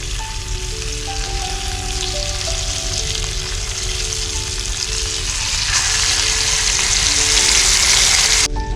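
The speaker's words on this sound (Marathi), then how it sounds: "एके साईडला मावरा पण फ्राय करायची सुरुवात" Fish frying in a pan outdoors in a forest, a loud, continuous close sizzle that swells stronger over the second half.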